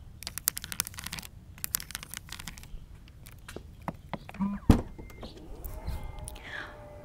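A Cadillac Escalade V tailgate opens after a button press, starting with soft clicking, then a single solid thunk and a quiet motorized whir, close up and calm, with a voice talking briefly.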